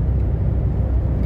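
A VW Lupo drives on a German country road, a close, steady low engine and road rumble inside the car with no other sounds over the brief stretch.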